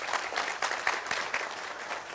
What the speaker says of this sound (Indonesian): Jadi tepuk tangan untuk Mas Mutakin.